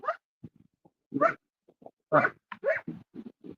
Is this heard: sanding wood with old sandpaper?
no